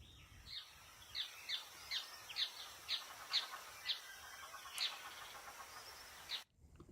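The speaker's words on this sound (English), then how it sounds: "Just like a lot of bird sounds, though." A bird sample from a music sample library chirps about a dozen times in a steady, evenly spaced series of short, high calls over faint background hiss, then cuts off abruptly.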